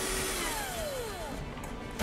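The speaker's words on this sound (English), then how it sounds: "I'm just going to start drilling loads of holes all in between the lines." A power drill bores holes into a pumpkin with a steady whirring hum under faint background noise, ending with a brief clatter.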